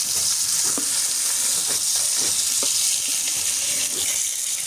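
Fish frying in a pan, a loud continuous hiss and crackle of hot oil close by, with a few soft clicks of a utensil against the pan.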